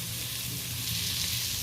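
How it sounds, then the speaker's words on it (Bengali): Green chili, onion and tomato frying in a pan, a dense continuous hiss of sizzling oil, close and even throughout. "কাঁচা লঙ্কা, পেঁয়াজ আর টমেটো ভালো করে হালকাভাবে নেড়ে দিচ্ছি"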